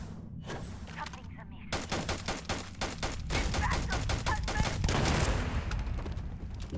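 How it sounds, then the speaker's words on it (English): Rapid bursts of automatic gunfire from Starfield combat, a steady run of sharp repeated shots that builds into a dense, continuous volley across the whole stretch. "Shooting everywhere but in their direction"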